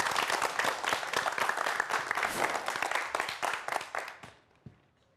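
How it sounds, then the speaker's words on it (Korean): Lecture audience applauding to welcome a physics professor's talk on quantum mechanics, dense clapping from many hands that fades out, leaving a few scattered final claps. "김상욱 교수님의 강연 박수로 청해 듣겠습니다"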